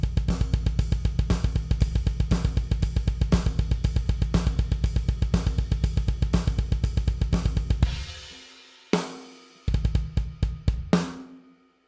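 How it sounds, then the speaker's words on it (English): A drum kit plays a fast double bass drum beat in straight 16th notes, steady punchy kicks with cymbal hits for about eight seconds, then a pause and a few more hits and a crash, close and loud. "We can also do straight 16th notes"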